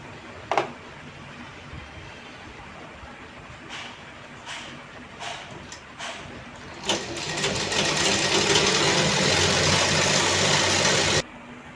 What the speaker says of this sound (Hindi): मैं इसको पूरा नीचे से ही सिलते हुए ऊपर लेके आऊँगी इस तरह से।